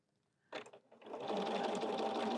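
A sewing machine edge-stitches vinyl binding on a folding wallet, with a few short bursts of stitching followed by a loud, steady, continuous run close by.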